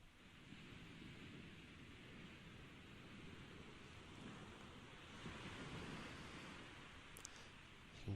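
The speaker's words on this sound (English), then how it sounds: "These waves are really giving us" Ocean waves wash and surge around a sailboat at night in GTA 5, a soft continuous rushing roar with wind noise that swells slightly near the end.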